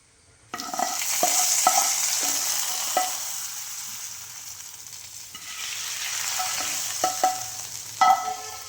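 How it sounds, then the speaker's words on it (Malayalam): A loud burst of hot sizzling as mustard seed tempering is poured into hot rasam, a steady crackling hiss that fades then swells again, with a few clinks of a utensil. "കടുക് വറുത്തതിലേക്ക് എടുത്ത് ഒഴിക്കാൻ പോവാണ്"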